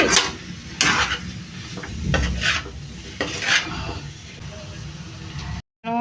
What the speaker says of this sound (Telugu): ఇవి ఫ్రై చేసుకుంటూ ఉండాలండి